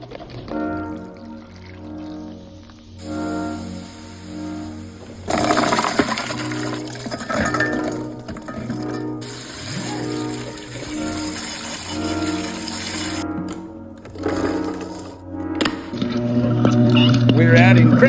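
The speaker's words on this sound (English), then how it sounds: "But first, let's wash our produce." Running water pours over produce (fresh ginger and cranberries) being washed in a kitchen, a continuous splashing gush that varies in strength as items are moved under the stream, with brief clinks along the way.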